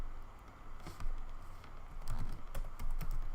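Typing a command on a computer keyboard, a close run of quick, uneven key clicks that picks up in density toward the end, with no talking.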